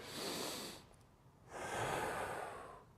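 Two long breaths, an exhale then another after a pause, soft airy and close, taken during a gentle shoulder exercise, with no talking.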